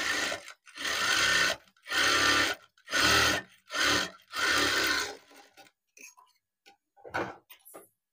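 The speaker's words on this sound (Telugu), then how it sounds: "ఇలా ఎడ్జ్ మీద స్టిచ్ చేయాలి." A sewing machine stitches along the edge of a blouse in five loud, even bursts of rapid mechanical chatter, separated by short pauses, followed by quieter clicks and handling.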